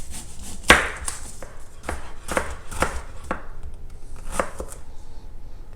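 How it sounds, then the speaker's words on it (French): An onion being sliced with a knife on a cutting board: a series of sharp, close chopping taps at an irregular rhythm, one louder stroke near the start, with no talk. "On va commencer par émincer un oignon."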